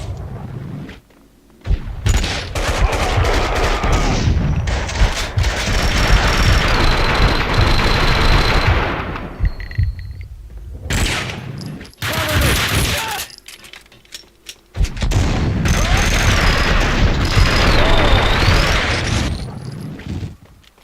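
Gunfire from the video game Max Payne crackles in long sustained bursts of rapid shots, loud and close, broken by short pauses before more volleys erupt.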